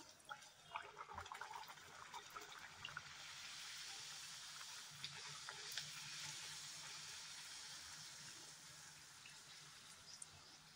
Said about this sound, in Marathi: तेल चांगलं तापलेलं आहे. आता आपण पुरी सोडूया.